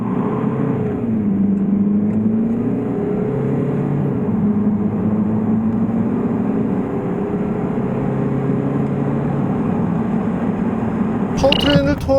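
A Chevrolet Orlando 1.6 diesel accelerates with a steady, rising engine drone and road rumble heard from inside the car, while someone talks over it throughout.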